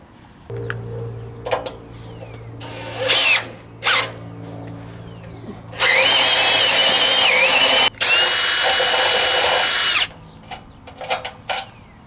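Power drill boring a bolt hole for a travel-trailer rear bumper bracket, loud sustained whine in two long bursts with shorter starts and stops around them, alone without talk.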